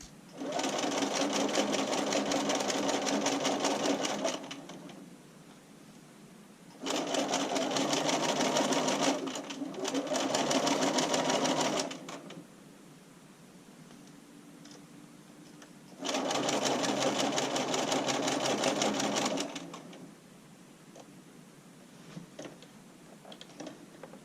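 A sewing machine stitches bra fabric slowly in three steady bursts of rapid mechanical whirring, close up, with quiet pauses between runs and no talking.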